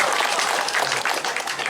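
A crowd applauds gamelan musicians at a Balinese bondres comedy performance, with dense, continuous clapping throughout.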